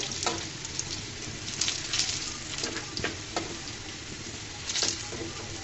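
Potatoes fried with thankuni leaves being turned over in a pan: a constant close sizzle broken by several scraping, stirring bursts.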